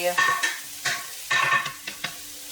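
Thinly sliced turkey meat frying in a pan, with a soft background sizzle broken by several clattering strokes of a utensil stirring and scraping the pieces.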